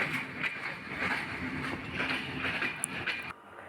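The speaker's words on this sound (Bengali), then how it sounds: "তো এটি চিলাহাটি এক্সপ্রেস ট্রেন আসুন ট্রেনে উঠে পড়ি" Chilahati Express passenger train at a Bangladeshi station, a steady rumbling roar with faint rattling, moderately loud and continuous, dropping off abruptly near the end; no talking.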